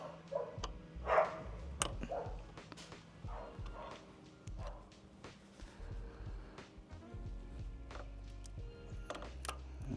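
A dog barks repeatedly nearby at a home HVAC condenser repair site, sharp woofs scattered through the stretch, some louder bursts early on, over a low background hum.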